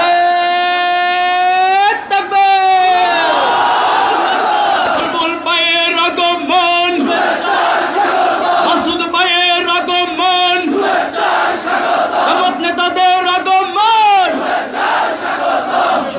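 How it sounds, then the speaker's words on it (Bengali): A large crowd at a Jamaat rally in Lakshmipur chants slogans in unison, loud and rhythmic, with repeated call-and-response phrases and brief breaks between bursts of voices. "সবাই মিলে কি আমরা একটা স্লোগান ধরতে পারি?"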